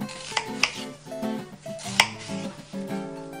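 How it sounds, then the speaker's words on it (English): A knife cuts lengthwise through an onion on a board, producing several crisp, separate chopping taps at an irregular pace that are close and fairly clear over a faint tonal background. "Next, cut the onion lengthwise from the top."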